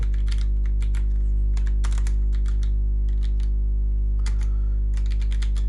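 Irregular bursts of computer keyboard typing as PHP code is entered, quick clustered keystrokes with short pauses, close and fairly clear over a steady low electrical hum.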